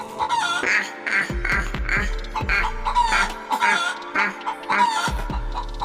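Cartoon chickens clucking repeatedly over a steady background of music, with several overlapping birds calling close by.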